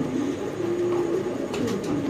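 A pigeon at a pigeon sale coos in one sustained low throaty phrase, close and fairly clear over a busy, noisy background.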